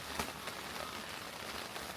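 Steady rain falls during a windy desert storm in Death Valley, a dense even hiss of drops on surfaces with no clear pauses, fairly quiet and continuous.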